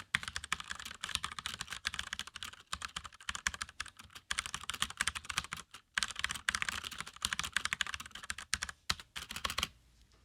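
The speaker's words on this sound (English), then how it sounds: "So this is the old keyboard." Rapid, steady typing on a computer keyboard, dense clicky keystrokes running almost continuously with a couple of brief pauses, close and clear.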